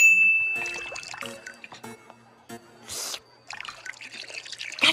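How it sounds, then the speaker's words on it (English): Tea poured into a cup in a cartoon: a short trickling pour with light dings and clinks of china, fairly quiet, among scattered soft effects. "Somehow Mrs. Cake is pouring the tea without even tilting it."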